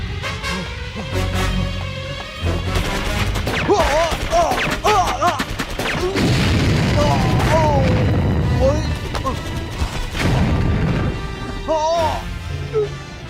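Action movie explosion blowing up a temple, a loud sustained blast and rumbling crash with debris, mixed with shouting voices and dramatic effects.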